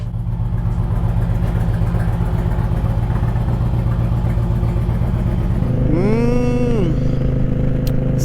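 An Indian Challenger motorcycle idling with a steady low engine drone, then revving up and dropping back as it rides off, loud and close with no talking.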